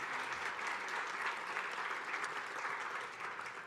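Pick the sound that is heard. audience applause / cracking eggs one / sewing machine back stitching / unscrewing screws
audience applause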